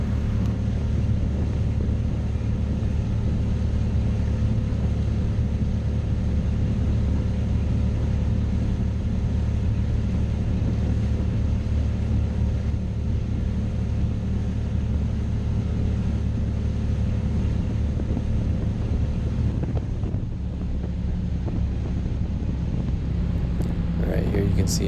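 A 27-foot powerboat runs at wide open throttle, its engine roaring steadily and loudly with heavy wind and water rush throughout, the tone shifting slightly near the end as it begins to slow.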